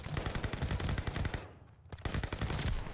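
Rapid bursts of Marco 5 SMG fire in a Call of Duty match on PS5, loud, close automatic volleys with a brief pause mid-way before shooting resumes.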